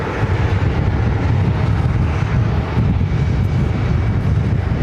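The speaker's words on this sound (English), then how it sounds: "There's a JetBlue Airbus A220-300 pulling into" A JetBlue Airbus A220-300 jet taxis in toward Terminal 5 at JFK, its engines a steady, loud, broad rumble that holds level throughout with no voices.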